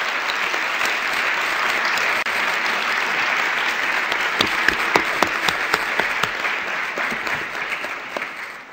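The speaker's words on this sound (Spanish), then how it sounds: "Yo quisiera pedirles a ustedes un aplauso para el doctor Heraclio." An audience at an academic seminar applauds a speaker, sustained dense clapping from many hands that grows sharper with a few louder individual claps toward the end, with no speech.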